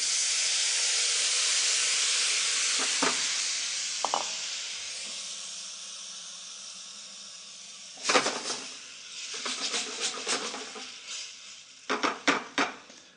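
An Indian sauce of garlic and tamarind liquid sizzles with a broad hiss in a pan that gradually fades, then sharp clinks and scrapes of a utensil stirring against the pan follow in bursts.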